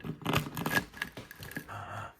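Baked brunch buns are cut open at the seam with a blade, giving a few close, crisp snipping and scraping cuts followed by a softer scraping sound.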